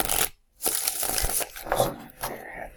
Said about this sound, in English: This is a stubborn shuffle.